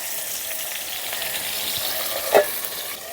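Potato pieces with a little salt fry in a pan, sending up a steady, close hiss of sizzling oil, broken by one brief louder stir or scrape near the end.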